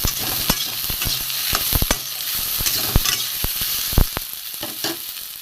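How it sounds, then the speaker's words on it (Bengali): Steady sizzling of chopped onion frying with okra in a pan, with intermittent scrapes and clanks of a spatula stirring, close up, no voices. "ঢেঁড়সটা মোটামুটি ভাজা হয়ে গেছে এবার আমি কুচি করে রাখা পেঁয়াজ দিয়ে দেবো"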